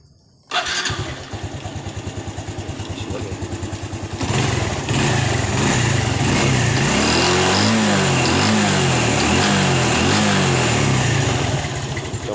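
Honda Revo Fi motorcycle with a freshly installed clutch starts up abruptly after a short quiet moment, then settles into a loud, close, steady putter that rises into a higher idle and small revs, with no talking.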